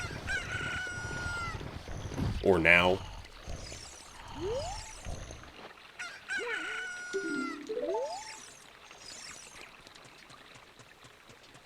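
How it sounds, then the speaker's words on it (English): A cucco chicken in the video game Ocarina of Time crows loudly right after hatching, followed by shorter rising chirps and jingles, with a brief spoken word near the end. "Alright, chicken should be hatching soon."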